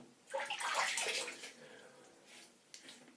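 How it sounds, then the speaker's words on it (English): Water splashed onto a face at a sink before lathering with a synthetic shaving brush, heard as close, brief splashing bursts, a louder one first and a softer one after a pause. "Now I'm going to just wet my face again."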